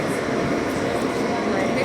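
A New York subway F local train bound for Stillwell Avenue at Coney Island rumbles loudly and steadily from inside the car, with a voice faintly beneath the noise.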